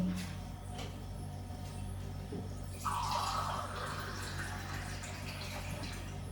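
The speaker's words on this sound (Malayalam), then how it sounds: "ഒഴിച്ചിട്ട് അതിൽ കടുക് പൊട്ടിക്കുക" Mustard seeds spluttering in hot sesame oil for a vadukapuli lemon curry, a close, steady sizzling crackle that swells abruptly partway through and keeps hissing to the end.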